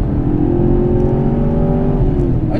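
A supercharged 2016 Camaro SS engine holds a loud, close, sustained rev with a steady droning tone and a hiss from the blower on top, then eases off right at the end.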